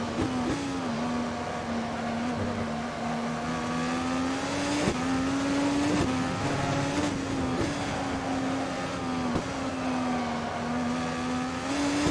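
An IndyCar race car on track at Sonoma drones loudly and steadily, its engine pitch rising and dipping slightly through the turns, heard from the cockpit with no talking.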